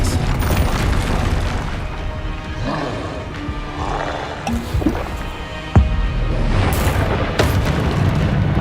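Expelliarmus disarming spell cast during Hogwarts Legacy combat on PS5: layered magical whooshes and tonal shimmer, punctuated by a sharp impact crack midway and further bursts, loud over game ambience with no talk.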